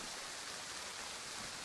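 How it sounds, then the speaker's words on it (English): Steady rain falling in the video game DayZ, a soft, even hiss of drops with no breaks, faint and alone. "So let's just add a little rain."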